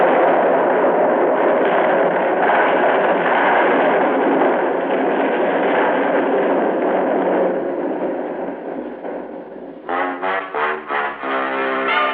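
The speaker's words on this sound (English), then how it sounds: "by the time that explosion really took hold" A sound-effect explosion from an old-time radio detective drama sets off a long, loud roar with a crumbling rumble as a building blows apart. It fades after several seconds, and a few brief louder tones sound near the end.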